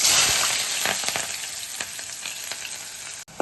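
Green chillies and onion pieces frying in oil, a bright hissing sizzle that starts strong and gradually settles, with scattered crackles and spatter pops, close and uninterrupted by voices.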